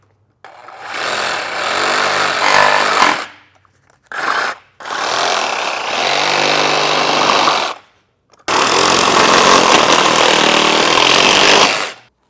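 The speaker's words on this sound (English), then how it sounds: "So I'm just going to trim a small portion of it off there to give us that clear coverage." A power cutting tool trims a plastic piece on a 2022 Jeep Grand Cherokee during a base plate installation, whining loudly in three sustained bursts with a short blip between them and silent gaps, close and without talk.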